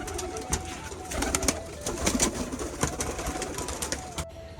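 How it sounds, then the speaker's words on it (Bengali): Pigeons coo steadily in a rooftop loft, with young birds among them, the soft repeated calls close and layered, with occasional wing flutters and faint clicks. "পায়রাগুলো কিন্তু সব তাকিয়ে আছে গ্রিট খাবে জন্য"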